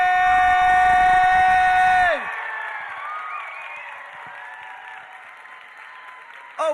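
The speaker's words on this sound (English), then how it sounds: "applause for Jodi Benson!" A convention panel audience applauds and cheers, a dense roar of clapping with whoops that cuts off abruptly after about two seconds, leaving a quieter crowd murmur and whistles.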